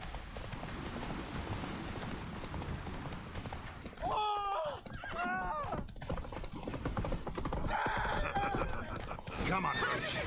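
Roach the horse gallops in Witcher 3, rhythmic hoofbeats running under the action, with sharp whinnies and neighs around the middle and near the end, and a voice speaking over parts of it.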